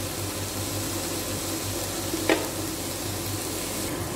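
Tomato and capsicum stir-fried on high flame, a steady even sizzle with a low hum beneath and a single short scrape of a spoon partway through.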